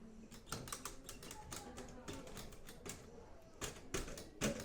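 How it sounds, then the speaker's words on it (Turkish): An old typewriter in a governor's office in Malta clacks as its keys are pressed, a run of sharp mechanical taps in uneven bursts close by, with some quiet talk around it. "Burada eski bir daktilo."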